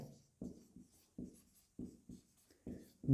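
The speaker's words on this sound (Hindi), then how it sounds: "मैं यहां पर लिख देता हूं" Chalk or marker strokes on a classroom board during a physics lesson, close up in short scratchy bursts of about a third of a second each, repeating in an uneven rhythm with quiet gaps between.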